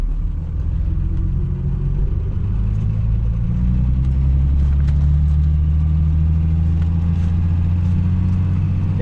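A vintage 1960s Mercedes-Benz W108 with a four-speed column shift drives along, its engine humming in a steady low rumble that rises in pitch as it accelerates, close and loud inside the cabin.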